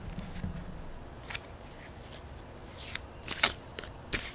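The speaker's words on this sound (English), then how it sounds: "Shuffling the deck" A Crow Tarot card deck being shuffled by hand, with soft riffling and several sharp card snaps and taps spread over a few seconds, close and alone without speech.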